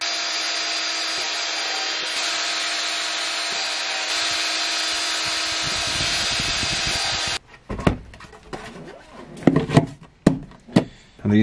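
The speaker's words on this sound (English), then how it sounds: "I'll just take a drill and just make some new holes here close to the corners" A power drill whirs steadily for several seconds drilling new holes near the corners of a guitar amp cabinet, then stops; afterward come scattered clunks and scraping handling noises.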